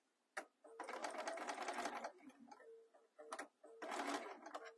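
A sewing machine that is due for a service runs in short, close bursts of fast stitching separated by pauses and mechanical clicks, with a quiet voice in between.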